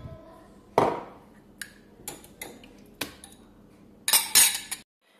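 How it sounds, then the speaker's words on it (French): A utensil clinks and scrapes in a bowl of chocolate cake batter after oil and yogurt are added, sounding as scattered sharp taps and knocks with quiet gaps, close by. "je vais rajouter l'huile et le yaourt et je remélange"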